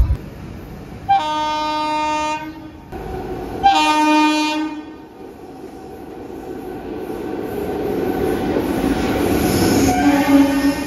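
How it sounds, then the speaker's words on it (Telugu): The Puri–Tirupati Express rumbles along the tracks, its horn sounding in two long blasts before the steady roll of wheels builds and continues. "మన ట్రైన్కి అయితే సిగ్నల్ వచ్చేసింది, స్టార్ట్ అయిపోయింది కూడా"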